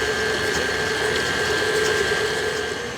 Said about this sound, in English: All right, now I'm gonna shut off my mixer.